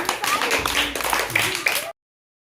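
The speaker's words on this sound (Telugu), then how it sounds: "శివానికి క్లాప్స్ కొట్టండి అందరూ" Children in a classroom clap for a classmate named Shivani, a short patter of small hands close by, mixed with chatter and voices before it cuts off.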